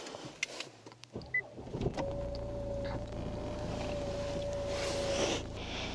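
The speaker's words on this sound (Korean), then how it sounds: "시동 소리 너무 좋고요." A 2.2-litre Infiniti Q50 turns over and fires, a brief starter whir giving way to a low, steady idle hum heard from inside the car, with a faint whine running above it.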